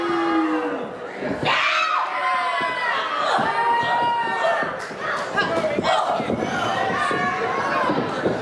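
A wrestling crowd roars in an arena during a women's match between Leva Bates and Tenille Dashwood. Loud, sustained cheers and shouts swell and surge, with some voices and chants mixed into the din.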